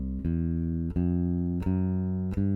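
Four evenly paced bass notes, each plucked and sustained until the next, playing a simple walking line without chromatic notes, with no voices.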